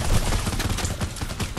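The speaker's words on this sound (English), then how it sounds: "And then you just shoot these zombies." Gunfire aimed at zombies in a Fortnite Halloween creative build, a dense, rapid stream of shots rattling loudly and continuously at close range with no voices.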